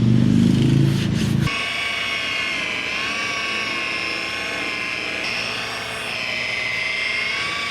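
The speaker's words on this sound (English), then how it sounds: "Just did 2 passes with a rotary polisher" A rotary polisher runs steadily on old, faded car paint, a close, sustained high-pitched machine whine with stable harmonic tones, preceded briefly by a louder low rumble at the start.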